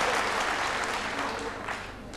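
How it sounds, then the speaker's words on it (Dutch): Studio audience applause during a 1983 Dutch TV quiz show, a dense burst of clapping that gradually fades over a couple of seconds. "Ik zie een hoop dames klappen."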